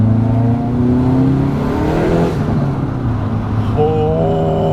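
A Hyundai Veloster N fitted with an Injen cold air intake revs loudly and close, its engine note climbing then dropping before a sharper rev near the end, with no talking.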